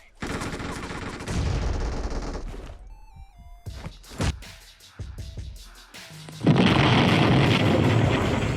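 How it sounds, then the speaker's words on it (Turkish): PUBG Mobile combat racket on the Erangel map: rapid gunfire bursts and booming blasts, ending in a loud sustained explosion roar, with tonal electronic effects mixed in. "Patladı."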